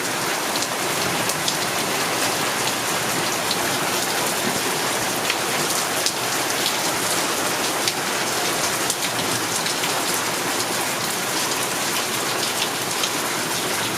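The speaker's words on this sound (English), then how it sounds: "I don't think it's hail though. It's just really big raindrops." Heavy storm rain with big raindrops pounding down during a tornado warning, a loud, dense, unbroken roar of splashing water that holds steady throughout with no voices.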